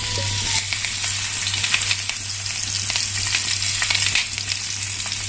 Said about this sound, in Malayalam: ആ ഓയില് എല്ലായിടവും ഒന്ന് സ്പ്രെഡ് ചെയ്തതിന് ശേഷം നമുക്ക് ഈ പൊതിഞ്ഞു വെച്ചിരിക്കുന്ന നമ്മള് വാഴയിലയില നന്നായിട്ട് പൊതിഞ്ഞു വെച്ചിട്ടുണ്ട്, അത് നമുക്കൊന്ന് വെച്ചു കൊടുക്കാം.